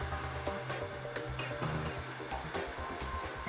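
A BDS AutoCUT 500 automatic beveling machine milling, a steady dense mechanical whir with a low hum underneath and faint periodic ticks, continuous and fairly close without pauses.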